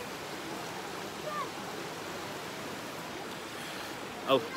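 River water flowing in Mariveles, Bataan, in the Philippines, heard as a steady, even wash of rushing water that fills the whole clip, with a brief faint sound near the end.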